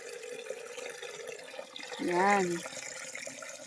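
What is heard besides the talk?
water flowing from a natural water source on a farm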